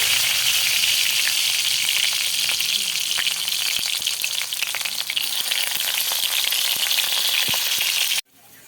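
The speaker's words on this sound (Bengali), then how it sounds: "পুরটা পুরো আমি করলার মধ্যে ভরে নিয়েছি, এবার আমি ভেজে নেব।" Stuffed bitter gourds fry in a pan of hot oil, giving a steady, close sizzle that holds for about eight seconds and then cuts off abruptly at the end.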